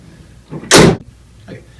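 A single solid thud as a 2014 Toyota Tundra's slow-fall, easy-lift tailgate swings shut, followed by a faint rattle, close by and otherwise quiet.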